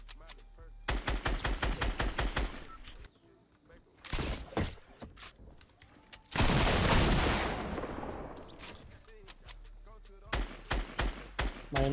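Gunfire from the video game Fortnite, in rapid automatic bursts and a long roaring stretch of sustained fire. The shots are loud and near, with players talking over parts of it.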